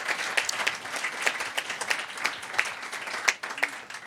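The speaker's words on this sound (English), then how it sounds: "Another round of applause for this panel." An audience applauds a panel at a conference session, a dense, steady clapping that carries on throughout and fades slightly near the end.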